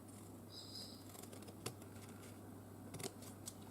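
Scissors snip paper while making a mixed media flower journal, a few quiet crisp cuts with sharp clicks over a faint steady background hum.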